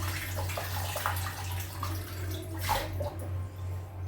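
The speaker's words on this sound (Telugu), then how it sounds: "మిగిలిన వాటర్ అంతా కూడా వంపేద్దాము" Leftover water from washing rice is poured out with a continuous splashing rush that stays close and steady over a low hum.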